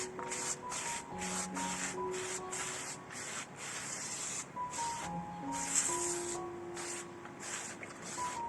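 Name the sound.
spraying water onto newspaper for wheatgrass seeds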